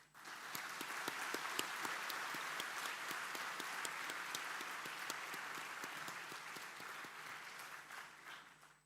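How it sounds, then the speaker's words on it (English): A degree convocation audience gives a long, even round of applause, a dense wash of many hands clapping at moderate distance that holds steady for several seconds before tapering off. "I think we should give all of my colleagues at the university and BMS a round of applause"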